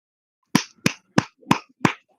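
Hands clapping at a church gathering: six sharp, separate claps at an even, slightly slow pace, close and clear, with no voices.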